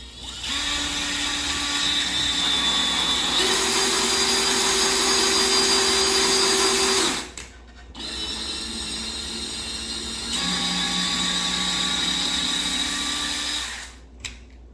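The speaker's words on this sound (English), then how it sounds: "I'm going to drill my holes with my 1/8 of an inch drill bit" A power drill fitted with a 1/8-inch bit bores holes into wall studs in a cold garage, two sustained whining runs of about seven and four seconds, loud and close, with a brief pause between them.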